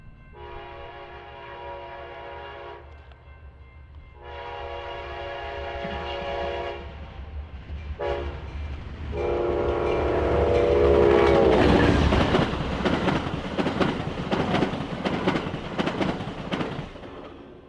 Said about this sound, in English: As the clear signal on track one predicted, a westbound manifest arrived a short time later.